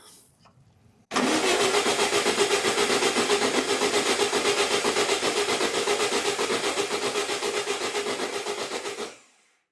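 A VW Beetle engine sitting unstarted for over 20 years cranks over on the starter in one loud, steady, rhythmic chugging run of about eight seconds without catching, close up.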